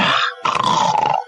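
A man imitates a dog with a gruff, throaty bark, two short growling bursts close to the ear, the second longer and trailing off.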